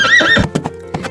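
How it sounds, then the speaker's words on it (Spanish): A horse neighs in a loud, close whinny that rises and wavers, followed by a few sharp hoof thuds on the ground. "Por último, llegó el caballo, que relinchó"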